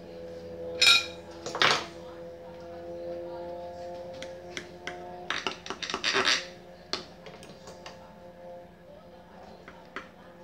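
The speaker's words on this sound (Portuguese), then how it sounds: "Eu vou cortar agora pra vocês verem." A knife and spatula scraping and clinking in a baking dish while a hot baked potato and ground beef casserole is cut, giving a few sharp clinks and scratches over a low steady hum, with a voice speaking intermittently.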